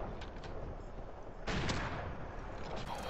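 Gunfire in the Call of Duty MWR video game, a steady dense barrage with a sharper louder burst midway, likely with hit marker sounds mixed in.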